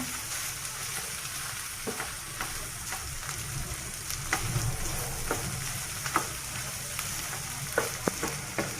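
Rohu and stinging catfish roe bhuna sizzles in oil in a pan, a steady soft crackle close by with occasional louder pops and scraping stirs.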